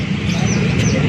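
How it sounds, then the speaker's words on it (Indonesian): Small high chirps from caged birds for sale at the roadside Sukahaji bird market in Bandung, heard close and brief over a dense bed of crowd murmur. "burungnya banyak banget yang dijual di sini, yang dibawa para pedagangnya"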